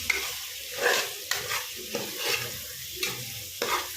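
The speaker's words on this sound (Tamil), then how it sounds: "மட்டனையும் சேர்த்துட்டு நல்லா வதக்கி விட்டுடலாம்." Quarter kilo of cooked mutton sautéed with fried onions for biryani, loud rhythmic stirring strokes scraping the pan roughly every half second over a continuous sizzle.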